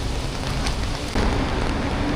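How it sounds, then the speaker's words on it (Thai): Heavy rain pours at Siam Square in Bangkok, a dense, continuous hiss of water on pavement and surfaces, loud and steady, swelling slightly partway through. "ฝนตก"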